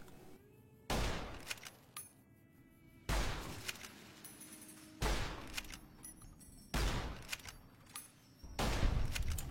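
Gunfire from a gun in a video game, firing in about five sharp, loud bursts spaced roughly two seconds apart, each one fading before the next.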